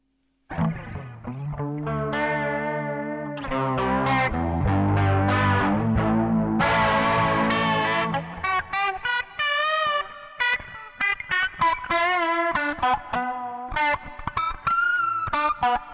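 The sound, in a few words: electric guitar with vibrato effect on Zoom G1 effects pedal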